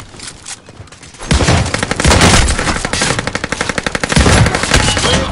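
Call of Duty gunfire: long, loud bursts of rapid automatic fire with dense rhythmic shots and a few heavier bangs, continuous through most of the stretch.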